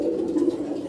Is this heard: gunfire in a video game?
no